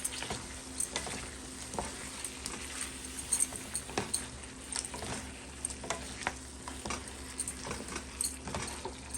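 Shrimp and pesto sizzling softly in a frying pan while being stirred, with repeated sharp utensil scrapes and taps over a low, steady fry and a faint background hum.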